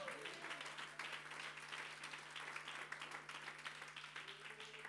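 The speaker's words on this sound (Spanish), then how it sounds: "Un fuerte aplauso al Señor." A church congregation applauding in worship, dense continuous clapping at a steady level, heard fairly faint under a constant low hum.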